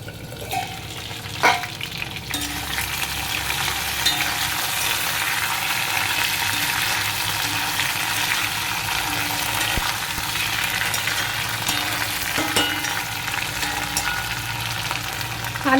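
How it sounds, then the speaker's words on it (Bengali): Potatoes frying in a pan with Kashmiri chilli powder, a steady close sizzle running throughout with occasional stirring scrapes and clicks, no voices. "আলুটা মোটামুটি ভাজা হয়ে গেছে"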